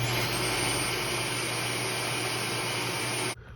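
A Dyson vacuum cleaner head with its brush motor running gives a steady, close mechanical whir with a low hum, then cuts off abruptly near the end.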